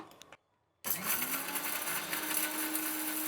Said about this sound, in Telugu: ముందుగా మనం మిరపకాయలు మిక్సీ వేసుకుందామండి, మళ్ళీ పప్పులంతా వేసి మిక్సీ పట్టుకుందాము.